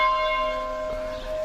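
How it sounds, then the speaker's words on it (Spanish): Church bells ring with a sustained, resonant metallic tone, steady and moderately loud, the hum lingering throughout the short moment without voices. "Mira cómo suenan las campanas."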